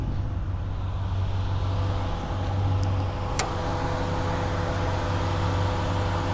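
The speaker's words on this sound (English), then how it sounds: "Great engine. Idles smooth, sounds healthy." A 2013 Ram 1500 pickup's stock 5.7-liter Hemi V8 idles steadily with a low, even rumble and no revving, close by.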